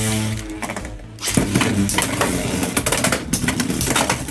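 Beyblade X spinning tops, Whale Wave against Hells Chain, clash in a battle stadium, a burst of loud repeated metallic collisions and grinding scrapes after a brief lull, continuing densely to the end.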